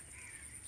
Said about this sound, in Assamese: কাউৰীৰে ডিষ্টাৰ্ব দি থাকে